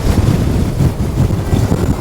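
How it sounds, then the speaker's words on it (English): Strong wind buffets the microphone on an open fell summit in the Lake District, a loud, steady low roar with gusty swells throughout and no voices. "But it's super windy now"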